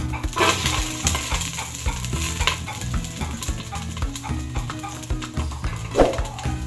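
Ginger frying in hot oil in a pan, a close, continuous sizzle with stirring scrapes and a sharper clatter near the end, over soft background music and no voices.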